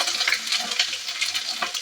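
Ginger slices frying in hot cooking oil for a Filipino beef offal papaitan, giving a steady close crackling sizzle with light stirring scrapes throughout, no talking.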